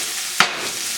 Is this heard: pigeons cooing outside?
no